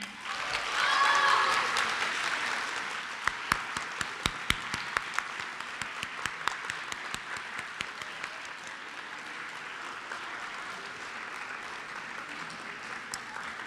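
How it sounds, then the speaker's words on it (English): Audience applause at a math competition awards ceremony for top girl prize winners, a steady crowd clapping that swells early and then holds, with scattered sharper individual claps standing out near the end. "A round of applause for our top winners."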